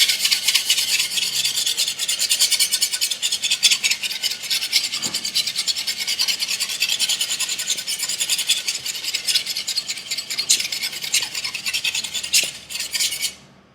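A Martin Yan chef knife is ground on a 320 grit stone to remove its secondary bevel, giving a close, steady rasping scrape in rapid repeated strokes, loud and continuous until it stops near the end, with no voices.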